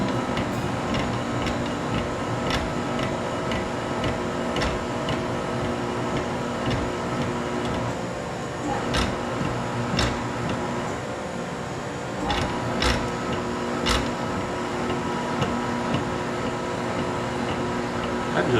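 A meat grinder works through the sticky, tacky second grind of meat, giving a steady loud mechanical drone with faint repeated ticks and clicks running throughout, no talking.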